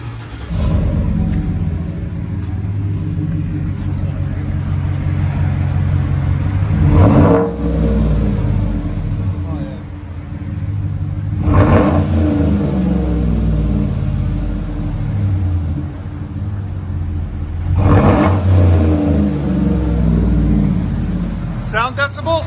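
A GMC truck's 5.3L V8 with aftermarket exhaust is revved three times over a steady idle rumble, each rev a loud rising bark before settling back, with people talking at times.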